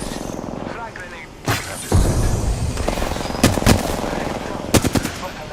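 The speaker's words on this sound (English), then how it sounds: "They're shooting at me" Rapid automatic gunfire crackles in an online shooter game, with bursts of sharp close shots and loud impacts under a steady mix of game sounds.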